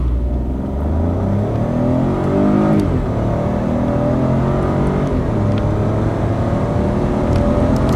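A 2022 Opel Corsa with a manual gearbox accelerates hard from a standstill toward 100, the engine revving up in rising sweeps with short dips at each gear change, loud and close throughout.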